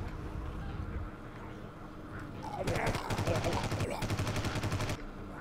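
Turrets in the game Nature's Zombie Apocalypse open fire in a rapid burst of automatic shots lasting a couple of seconds, rising loud over a busy game soundscape with background music.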